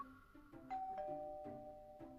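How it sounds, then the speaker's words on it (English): A doorbell rings outside a courtyard in the Love and Deepspace game, a clear two-tone electronic chime repeating over about two seconds, near and alone. "Suddenly, the doorbell rings from outside the courtyard."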